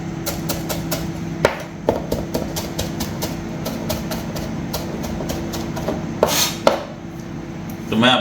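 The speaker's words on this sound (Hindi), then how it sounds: "फ्रेश कोरिएंडर में काट लेता हूँ।" Fresh coriander chopped with a knife on a board during a black pepper chickpea recipe: rapid, close, regular knife taps in quick runs, with a few heavier strikes and a brief pause near the end.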